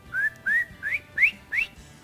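A duck call whistles five short, rising peeps in a quick, even rhythm, imitating a baby duck, close and clear against a quiet background.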